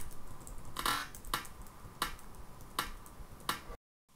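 Sharp claps used to sync audio and video, five crisp hand claps spaced roughly half a second to a second apart, close and fairly faint against a quiet room, ending in silence.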